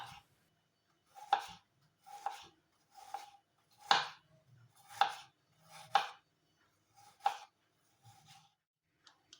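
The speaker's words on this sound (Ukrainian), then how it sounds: "одне яблуко середнього розміру очищаю від шкірки та серцевини та нарізаю тоненькими скибками" A knife slices a peeled, cored, medium-sized apple into thin slices on a board, giving about nine crisp, close cuts at an uneven rhythm with short pauses between them and no talking.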